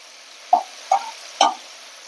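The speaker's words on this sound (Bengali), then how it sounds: "এবারে আমি লোটে মাছটা দিয়ে দেবো।" Pieces of Bombay duck (lote) fish land in a pan, three distinct soft wet plops spaced evenly apart, close and isolated against a quiet background.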